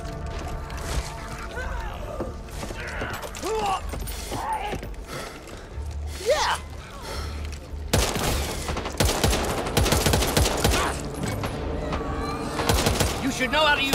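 SMG fire in the zombie shooter Back 4 Blood, bursts of rapid shots and mechanical clatter mixed with shouts and game noise, intensifying into a dense volley in the second half, with people talking.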